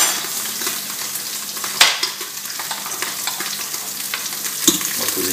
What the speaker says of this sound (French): On va laisser fondre le beurre.